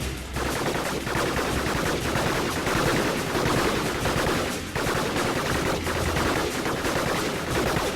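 Robots trade fire in the video game Gladiabots, a dense, unbroken stream of rapid automatic gunshots that stays loud and close throughout, with no pauses.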